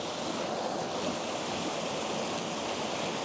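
Water rushing through a creek at Donut Falls, a steady broadband hiss and churn filling the whole stretch, continuous and fairly close with no voices.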